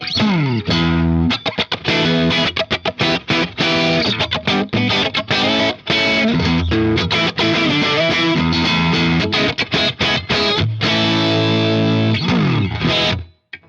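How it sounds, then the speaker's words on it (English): A heavily distorted electric guitar in split coil mode through a Fractal modeler plays loud chugging chords and riffs with a bright, slightly thinner single-coil tone, continuous until a brief fade at the end. "on split coil mode, which I'm in right now, it sounds really, really nice"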